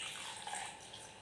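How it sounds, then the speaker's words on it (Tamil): Water poured little by little into murukku flour dough, a faint, steady watery trickle that runs for about a second with no talk. "இப்போ நம்ம கொஞ்சம் கொஞ்சமாக தண்ணி விட்டு நம்ம கலந்து விட்டுக்கலாம்"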